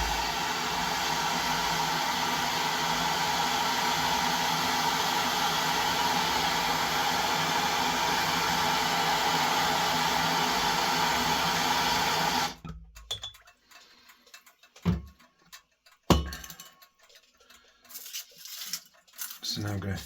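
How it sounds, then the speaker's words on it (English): A flintlock pistol spring being heated until glowing before tempering, with a loud, steady roar of the heat source for about twelve seconds that then cuts off, leaving a few quieter clinks and knocks. "So what I'm going to do now is temper this spring. So I'm going to heat it till it's glowing"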